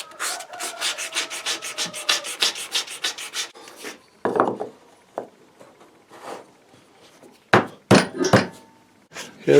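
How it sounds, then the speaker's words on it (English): Sandpaper scrubs back and forth in quick, rhythmic strokes on a wooden part to rough it up for epoxy, loud and steady for about four seconds, then sparse knocks, scrapes and handling noises follow. "we're just roughing up the back of this now so we get a stick with the epoxy"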